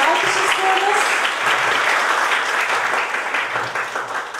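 Sustained applause from a hospital seminar audience in Turkey, dense and steady throughout with a few voices briefly audible at the start.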